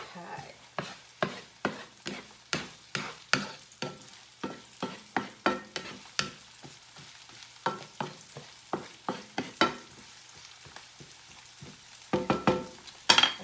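Food sautéing in a pan with a steady sizzle, broken by a long run of sharp stirring scrapes at an even rhythm, close and fairly quiet, with no talk.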